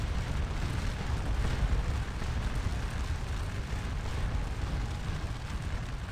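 Musket volleys from infantry in the Scourge of War Remastered battle game, a dense continuous rumble of massed fire and booms holding steady and fairly loud throughout, with no talk over it.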